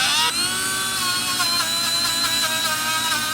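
A Dremel rotary tool whines at high speed close up while cleaning the pilot part of a Hayward pool heater, a steady buzzing tone that wavers slightly as it presses against the metal.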